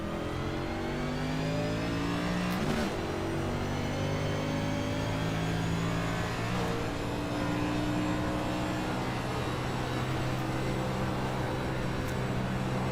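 Engine of a racing game car revving steadily and loudly, its pitch sweeping up and down in layered harmonic tones, with no talk over it.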